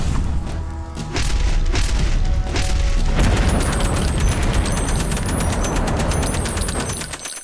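A .308 Winchester rifle, a Weatherby Vanguard Series 2 firing DRT Terminal Shock rounds, lets off loud booming shots, with sharp repeated reports in the opening seconds and a sustained rumbling blast and clatter continuing afterward.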